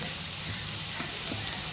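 Onions fry with coriander in a pan, giving a steady soft sizzle and hiss throughout with faint occasional stirring.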